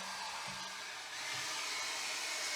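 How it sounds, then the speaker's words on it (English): A hairdryer blows steadily on a paint pour with a white base, a continuous broadband airy whoosh close to the mic, with a slight dip in pitch and level partway through. "And I'm going to use my hairdryer to move it around."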